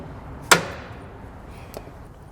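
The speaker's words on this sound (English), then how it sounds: "Gonna use his toy hammer." A toy hammer striking truck air ride parts on a custom Peterbilt: one sharp metallic strike, close and loud, then a fainter second tap a moment later over low shop background noise.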